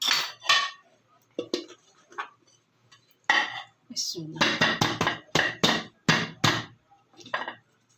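Almond cake baked without an oven being turned out of its pan onto a plate, a series of sharp metallic knocks, clinks and taps in irregular bursts, close, with quiet gaps and faint talk between.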